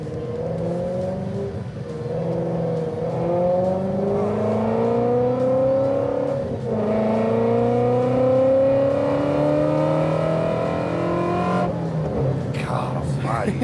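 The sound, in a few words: Whipple supercharged 2018 Shelby GT350 engine revving with headers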